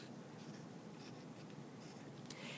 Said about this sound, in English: Now because it's close, I'm going to draw some texture on there, some bark.